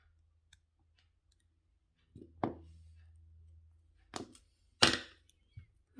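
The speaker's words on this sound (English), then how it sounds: "I'm going to cut that wire." Jewelry wire for wire-wrap earrings is snipped with cutters, giving a few sharp close clicks spread over several seconds against near silence.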